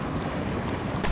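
Water rushing around a Vega-2 kayak riding side waves at a spillway, a steady broadband wash of river noise and wind, close and continuous with no talking.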